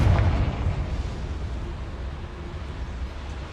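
A Confringo fire spell in Hogwarts Legacy explodes with a deep, heavy boom at the start, then trails off into a long rumbling decay, loud and without speech.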